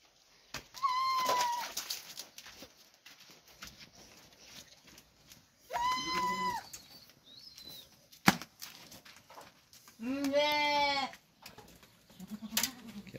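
Two hornless pregnant goats tied up at a sale bleat in three separate, fairly close calls spaced several seconds apart, with quiet pauses and a few small knocks between.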